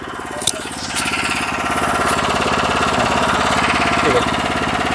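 A power tiller engine runs in direct gear with a loud, steady chugging drone, close by, with a brief clank near the start.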